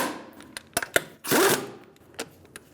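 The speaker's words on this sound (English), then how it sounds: "We're going to tighten up the lug nuts with a 21mm socket and a star-like" Lug nuts on a 2007-2012 Nissan Altima are snugged with a 21mm socket, giving quick close ratcheting clicks and one short whirring burst amid scattered metallic taps.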